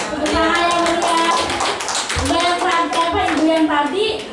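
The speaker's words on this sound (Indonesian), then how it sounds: "Tepuk tangan yang meriah." Audience at a school talk on positive culture claps steadily and briskly together, the dense patter running throughout, with voices mixed in over the clapping.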